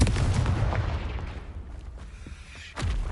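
In Hogwarts Legacy, a Confringo fire spell blasts with a deep booming burst that rolls and fades, followed by a second heavy thud near the end.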